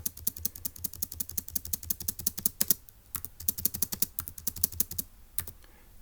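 A puzzle solution is typed on a computer keyboard in quick, steady clicking bursts with a short pause midway, close and fairly quiet.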